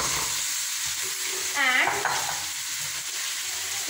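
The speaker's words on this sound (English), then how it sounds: "While the potatoes are frying, we will add 1 tablespoon of salt" Half-boiled potatoes fry in a pan with garlic, ginger and garam masala, a steady sizzle with a brief stirring scrape in the middle.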